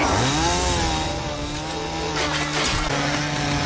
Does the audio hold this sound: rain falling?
no